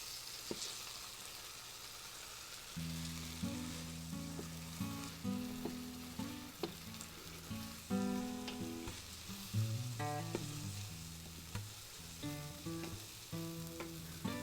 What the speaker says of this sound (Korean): 이 계란은요, 제가 스크램블 할 때 그것처럼 살살 문질러 주세요